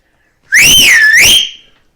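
A person whistles a single loud, clear signal call close by, rising, dipping and rising again for about a second, then fading out, with no talk.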